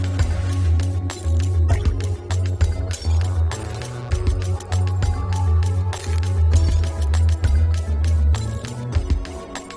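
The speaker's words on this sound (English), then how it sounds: "added sound effects of breaking glass, ratchets, and water splashes to create a completely unique custom piece" A custom theme song built from a bass-heavy beat mixed with sound effects of breaking glass, ratchets and water splashes, dense clicks and splashes running over a steady groove, with no speech.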